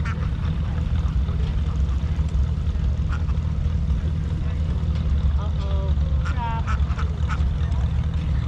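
Ducks being herded at a harvest festival quack repeatedly in a busy outdoor scene, with several clear calls bunched near the end over a steady background hum and murmur.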